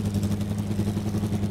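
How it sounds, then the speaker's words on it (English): Airplane engines in the Stormworks video game make a steady, loud, low droning hum with a rhythmic pulsing throb, continuous and close, with no talking over it. "those engines are loud"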